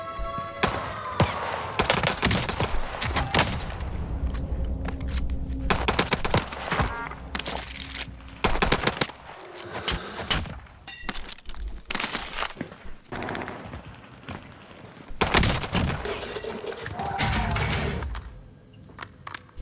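Bursts of machine-gun fire from a Bren light machine gun in Call of Duty Warzone's Rebirth Island, rapid rattling volleys broken by short pauses, with several separate strings of shots across the stretch.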